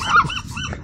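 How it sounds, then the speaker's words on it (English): Seagulls hovering around a lunch table give a short, raspy, honk-like call up close, loud at first and then trailing off. "I am being stalked by seagulls."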